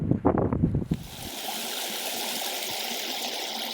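Water flowing along a small drainage line in the African bush, a steady gentle gurgling stream heard close and continuous after a brief burst of louder sound at the start.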